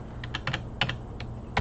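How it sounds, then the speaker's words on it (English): Computer keyboard keys pressed while working in Blender, a quick run of close, crisp clicks in an uneven rhythm over a low steady hum. "I'm going to press G on my keyboard"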